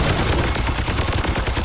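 A loud, dense burst of rapid gunfire rattles from a Warhammer 40000: Chaos Gate Daemonhunters battle, continuous overlapping shots close up, with no talking.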